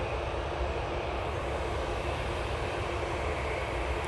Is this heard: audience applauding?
no